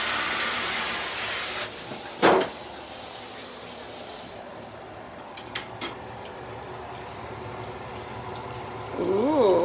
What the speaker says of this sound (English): First, I'm going to wash my hands first.